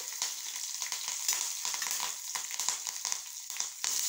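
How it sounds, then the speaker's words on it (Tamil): Urad dal and mustard seeds frying in hot oil give a dense, continuous crackling sizzle, close and steady, with small pops and no talking. "இப்போ எண்ணெய் காஞ்சிருச்சு. உளுந்தம்பருப்பு, கடுகு போட்டுரும்."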